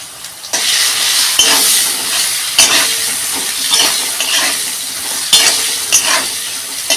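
Eggplant fries loudly in hot oil in a pan, a bright constant sizzle broken by several stirring scrapes and bursts of spitting, close up with no voices.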